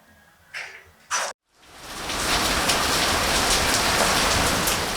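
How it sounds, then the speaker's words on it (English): Heavy tropical rain in Viñales, Cuba pours down in a dense, steady roar, starting after a couple of brief bumps and a moment of silence, then filling the scene. "And it started raining, like lashing literally."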